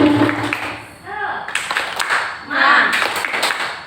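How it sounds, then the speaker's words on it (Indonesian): A group of schoolteachers does a rhythmic spirit clap in a meeting, bursts of patterned clapping mixed with voices chanting along and nearby talk. "Tepuk semangat."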